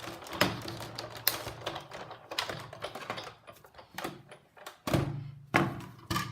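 Big Shot die-cutting machine cranking a card between standard cutting pads to cut a stamped tree, giving a run of clunky taps and thunks, fairly close and moderately loud, with no talking.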